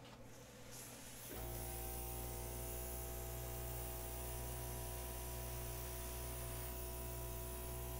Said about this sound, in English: I'm going to try with the airbrush first